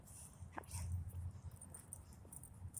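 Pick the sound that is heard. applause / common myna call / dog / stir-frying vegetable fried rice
dog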